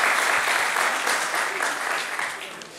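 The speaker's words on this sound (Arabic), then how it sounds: "تصفيق" Audience applause at a televised talent show audition: a steady, dense clapping from a crowd that fills the short moment evenly and fades slightly at the end, with no talking over it.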